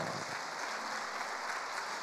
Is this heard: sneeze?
no